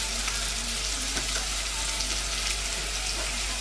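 Minced steak sizzles steadily in a hot frying pan, a dense, continuous crackling hiss up close with no talking.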